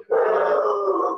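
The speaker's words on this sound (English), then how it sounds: "Sorry, that's my dog." Pet dog letting out a single drawn-out whining howl or groan indoors during an online talk, close and fairly loud, holding steady for about a second.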